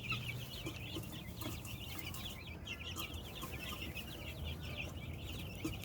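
A small backyard flock of chickens, including Rhode Island Reds, clucks and chatters softly and continuously at a moderate distance, with overlapping calls over low steady background noise.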